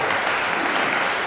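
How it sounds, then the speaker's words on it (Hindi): Audience applause at a Jain religious discourse during a Siddhachakra Mahamandal Vidhan, a dense, continuous burst of clapping from a crowd, loud and close, with no talking over it. "ताली नहीं भिजवा रही आपकी"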